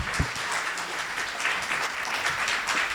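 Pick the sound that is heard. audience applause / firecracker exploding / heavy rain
audience applause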